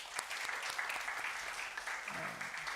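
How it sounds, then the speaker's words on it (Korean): A church youth congregation applauding, a close, busy patter of many clapping hands that holds steady throughout, with a faint voice briefly rising near the end. "다시 한 번 더 박수로 격려할게요"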